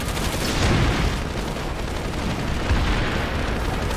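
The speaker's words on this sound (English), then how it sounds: "Orbital strike inbound. Oh, the satellite shot." An orbital satellite strike blasts down in a video game, a loud, dense rumbling roar of explosions filling the whole stretch with sustained noisy booms.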